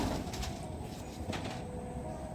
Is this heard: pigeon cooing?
yes